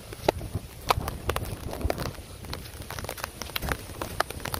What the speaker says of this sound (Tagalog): Grabe yung bagyo.